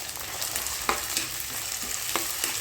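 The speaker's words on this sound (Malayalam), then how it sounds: "ഇനി അടുത്തത് തക്കാളി ഇട്ട് കൊടുക്കുക." Tomato goes into a frying curry base of green chillies and curry leaves. The oil keeps up a steady close sizzle, with light scrapes and taps from stirring now and then, and no talking.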